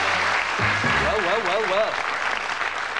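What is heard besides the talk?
applause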